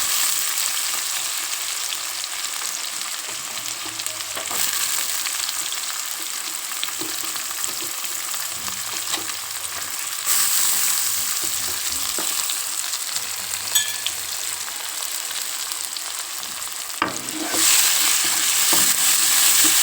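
Onions, garlic, chillies and cumin fry in a pan for an egg and lentil curry, giving a sustained sizzle with repeated stirring scrapes and clinks. It grows louder in surges when fresh ingredients hit the oil, and no one speaks.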